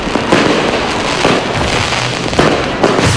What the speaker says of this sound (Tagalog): Kompleto sa countdown at fireworks display.